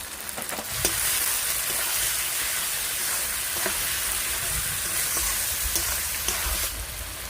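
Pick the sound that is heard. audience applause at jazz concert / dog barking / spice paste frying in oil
spice paste frying in oil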